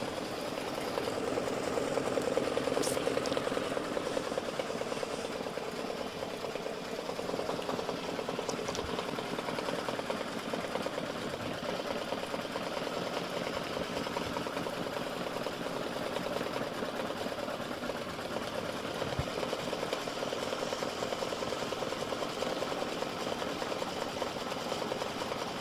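An embroidery machine stitches a satin stitch on an in-the-hoop Christmas gift tag, giving a steady, continuous mechanical whir and rapid needle chatter that runs at an even level throughout with no talking.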